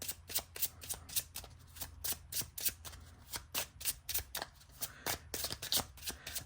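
Close, crisp riffling bursts repeat in a quick regular rhythm as a deck of Lenormand cards is shuffled again and again, with no talking.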